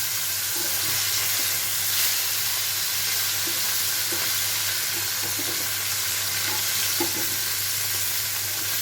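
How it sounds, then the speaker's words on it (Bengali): Hilsa fish sizzles steadily in hot oil, a constant crackling hiss close by with occasional soft pops and faint clinks of a utensil. "এখন এই যে মাছটা ভেজে নিচ্ছি একটু হালকা ভাজা দেবো"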